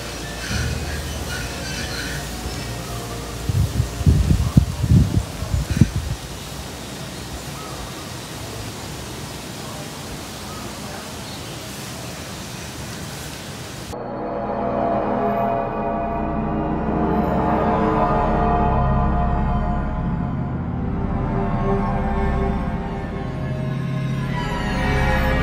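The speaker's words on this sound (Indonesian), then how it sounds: "anginnya saat ini cukup keras ya" Strong wind blowing beneath a very large tree at an old hermitage site, heard as a continuous loud rushing roar that swells and thickens in the second half, with brief handling noise early on and no voices.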